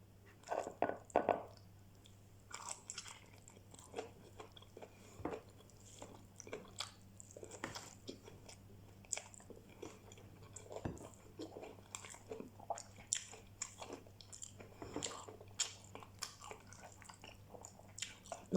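A simple meal of rice with broth or bagoong is eaten, with soft, close bites and chewing that crunch and squish now and then over a low steady hum. Nobody talks.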